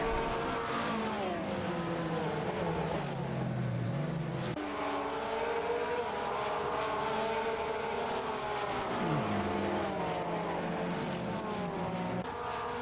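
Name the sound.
GT3 race car engine in racing video game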